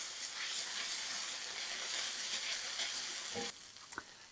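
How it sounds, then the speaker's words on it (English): Tomato paste frying in a hot pan for a simple sugo, a steady close broadband sizzle that runs continuously before dropping quieter near the end, with a couple of brief utensil taps. "I always add the tomato paste now. I want to fry it off"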